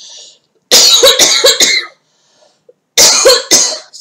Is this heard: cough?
yes